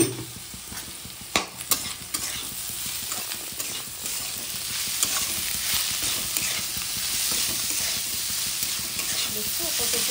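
Sliced snake gourd (chichinge) with salt is stirred in a hot pan for a poppy-seed dish, a close, steady sizzle with a few sharp spatula knocks at first, then a continuous scraping hiss, no talking.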